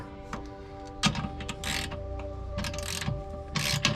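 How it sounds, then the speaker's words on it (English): Ratcheting metallic clicks and clanks as a bolt on a travel trailer stabilizer jack is tightened with an adjustable wrench, irregular bursts close by over a faint hum. "Now I'm going to use the adjustable wrench to hold it over here"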